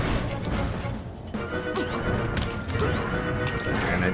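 Link taking hits from a boss in The Legend of Zelda: Link's Awakening (2019), with sharp smacking impact effects among busy game sounds and music.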